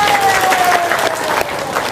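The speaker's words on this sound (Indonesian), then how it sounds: "Tepuk tangan dong." Audience at an Indonesian religious talk gives a loud burst of clapping, dense and close, with a thin whistle-like tone sliding under it.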